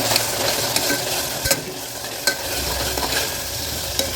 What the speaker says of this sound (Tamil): இதையும் நல்லா வதக்கி விட்டுருங்க